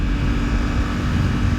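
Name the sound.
Suzuki GSX-8S parallel twin motorcycle engine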